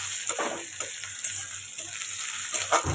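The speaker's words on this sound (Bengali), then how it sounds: "পেঁয়াজটা লাল লাল করে ভাজা করব" Onions fry in oil in a pan until reddish-brown, crackling and sizzling steadily, with soft stirring scrapes and a constant hiss throughout.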